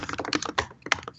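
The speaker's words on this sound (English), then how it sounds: "that typing is very loud." Loud, rapid typing on a computer keyboard, with dense clusters of sharp key clicks close to the microphone and no talking.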